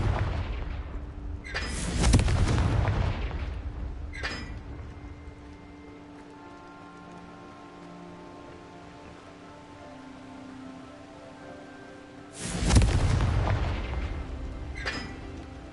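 Two heavy booming spell blasts from the Confringo fire spell in Hogwarts Legacy, about ten seconds apart, each a loud close burst fading into a quiet rain-like ambient hiss.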